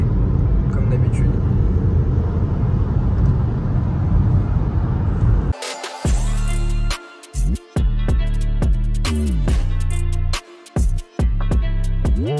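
Car rolling slowly in congested traffic on the road toward Paris near the German-French border, with a steady low road rumble under loud nearby conversation and music-like tonal sounds.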